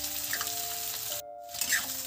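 Okra and potatoes sizzling as they fry in hot oil in a pan, a steady close crackle that drops out briefly midway before resuming.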